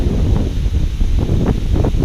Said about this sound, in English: It's really cold and windy